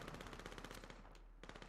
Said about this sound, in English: Hearing lots of gunfire.